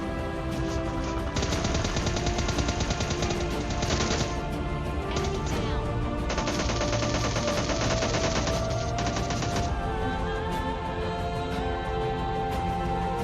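Gunfire in the mobile battle royale game PUBG Mobile Lite during a duo-versus-duo fight: loud bursts of rapid automatic fire with several single shots between, over a steady bed of game sound.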